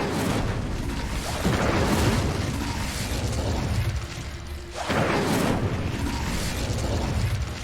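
Fire spell cast in Hogwarts Legacy: loud whooshing bursts of flame roar up in two surges, the second after a brief lull, over a dense low rumble.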